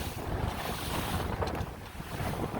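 Fishing boat built for the ocean creeping along at about 3 mph through choppy, whitecapped water on San Francisco Bay, with loud, steady wind buffeting the microphone and wash of waves around the hull, no voices.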